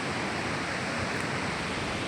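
Water runs from a tap in a steady, even rushing hiss that stays constant throughout, with no voices.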